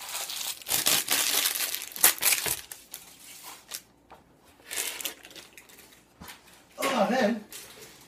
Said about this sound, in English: Tear off your excess parchment paper so you don't start a fire.